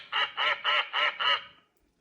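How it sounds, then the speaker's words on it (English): A duck gives five loud, evenly spaced nasal quacks in quick succession, close and clear with nothing behind them. "Duck."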